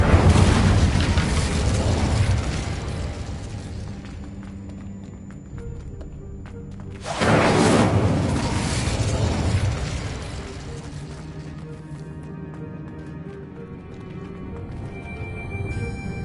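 Hogwarts Legacy's Incendio fire spell erupts in two loud, roaring whooshes of flame several seconds apart, each fading into a crackling rumble, with no talk over them.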